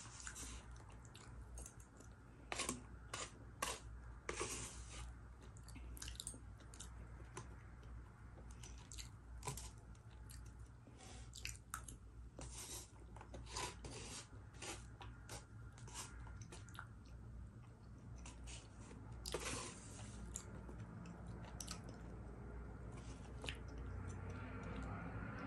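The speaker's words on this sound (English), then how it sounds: "I really only chew on the fat." Someone chews on meat fat at a Sunday dinner of griot, with repeated soft, wet bites and squishy mastication sounds close up over a low steady background hum, with no talking.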